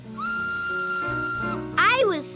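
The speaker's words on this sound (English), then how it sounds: "The steam engine whistled." A steam engine at the front of a train lets out a clear, tonal whistle, held steady for over a second before sliding and warbling in pitch, fairly loud and close.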